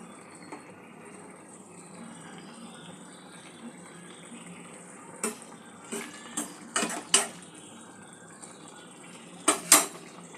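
Katla fish stew with vegetables bubbling in a pot, a steady soft simmering hiss with scattered sharper pops and clinks toward the end, close and moderately loud.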